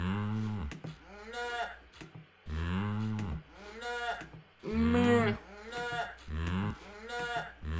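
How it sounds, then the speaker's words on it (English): A cartoon cow in a farm video game moos repeatedly, several drawn-out, loud lowing calls in a row with short gaps between them, close and clear, with a brief voice at one point. "he like moos like our cat meows"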